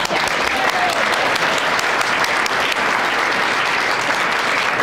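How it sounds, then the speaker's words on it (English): Sustained applause from an audience at the 2010 St. Paul Neighborhood Honor Roll ceremony, honoring Dennis Rosemark; dense, steady clapping fills the room throughout at even loudness. "we should clap for Dennis Rosemark"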